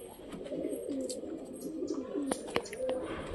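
Several pigeons in a home loft cooing in overlapping low murmurs nearby, with a few sharp clicks and knocks from cage movement.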